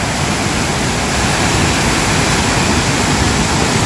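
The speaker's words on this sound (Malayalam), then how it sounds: "നമ്മുടെ അരുവിക്കൽ വാട്ടർഫോൾസ് ആണിത്" Aruvikkal waterfall in Ranni, water pouring down over rock in several tiers with great force, a loud, steady, close roar of rushing water filling the whole clip, no voices heard.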